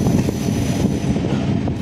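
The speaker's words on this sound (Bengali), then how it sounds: "আমাদের ট্রেন বেলুড়মঠ স্টেশনে ঢুকছে।" A train pulling into Belur Math station sends a continuous low rumble and rattle of rail cars through the whole stretch, with some wind buffeting the microphone and no voices.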